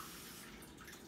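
Water poured into a pot of Mexican rice, a steady, soft, splashing trickle that runs continuously without pause, with no voices heard.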